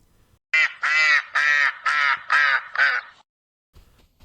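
Cartoon ducks in a funny top-down extraction shooter game quack loudly in a run of six harsh, nasal quacks, evenly spaced and close up, followed by brief quiet.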